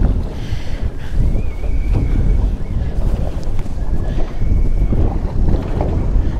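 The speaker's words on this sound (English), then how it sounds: "Wind's coming over my left shoulder here." Strong wind buffets the microphone on a fishing boat offshore near Sydney, a loud steady roar with gusty swells and the low drone of the boat beneath.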